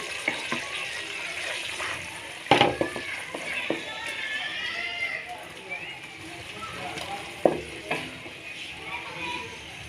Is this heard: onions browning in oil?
yes